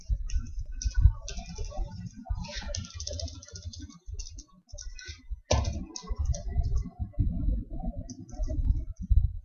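Program code being typed on a computer keyboard for a PIC16F877A microcontroller project, with close, continuous clattering keystrokes in quick irregular runs and brief pauses.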